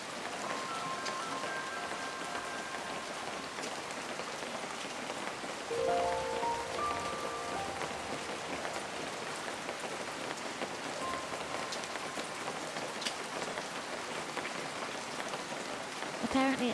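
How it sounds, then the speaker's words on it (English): Steady rain patters continuously on a surface in the video game Feather, soft and even, with faint musical tones drifting in the background. "Apparently it sounds like it's raining."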